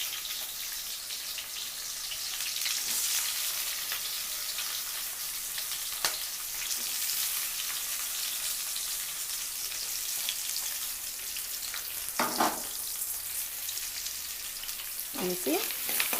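Chopped onion pieces and green chillies sizzle and crackle steadily in hot oil in a pan, with a few sharper clinks and pops rising above the continuous frying hiss.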